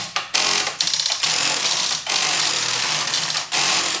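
Strowger selectors in a UAX13 telephone exchange rack stepping and returning to zero, a dense, loud mechanical chatter of rapid clicks and buzzing ratchets with brief pauses between bursts.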